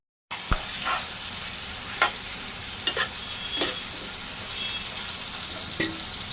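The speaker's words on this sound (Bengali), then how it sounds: "নড়াচড়া করে দিই" Fish curry with potatoes and green beans being stirred in a pan: a continuous close sizzle with several distinct scraping spoon strokes at irregular intervals, no talking.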